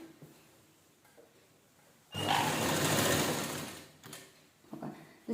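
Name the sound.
sewing machine stitching a folded fabric edge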